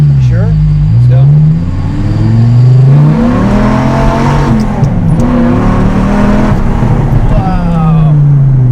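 A V10-swapped Honda S2000 accelerates hard, its engine note climbing in rising harmonic sweeps through the gears, loud and close from inside the car, with voices talking over it.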